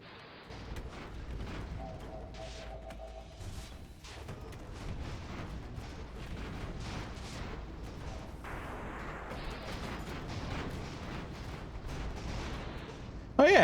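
Airship guns and rockets keep firing in the Airships: Conquer the Skies strategy game, a steady rumble of booms and crackling shots with a brief tonal whine early on and a louder burst at the very end.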